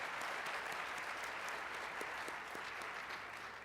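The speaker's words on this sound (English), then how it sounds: "So let's give him another round of applause for that as well." An audience claps at a lightning talks session, producing a continuous, fairly distant wash of applause that holds steady for several seconds and eases slightly toward the end.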